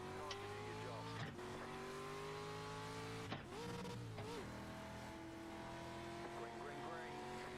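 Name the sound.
street stock race cars racing in iRacing video game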